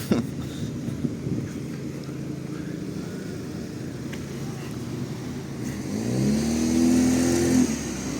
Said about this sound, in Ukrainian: Купа-купа автомобілів.